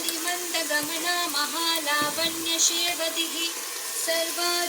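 Carrot and soya chunk biryani is stirred in a pan over a low flame, with a steady close sizzle and soft stirring scrapes running throughout under faint sustained tonal background sounds.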